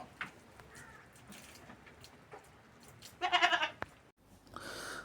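A goat offered for sale at a livestock seller gives one clear, fairly loud bleat partway through, over faint outdoor background noise with a few small knocks and rustles.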